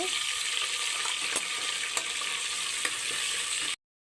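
Fenugreek leaves frying in oil inside a pressure cooker over a low flame, with a steady hiss and a few sharp ladle taps, then an abrupt cut to silence near the end.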